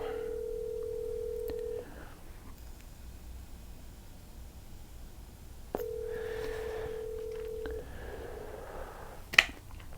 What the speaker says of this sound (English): So let's see if he picks up the phone.